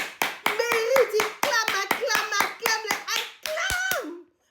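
A worship congregation clapping in a steady rhythmic beat, about ten sharp claps, with singing or chanting voices carried over the top.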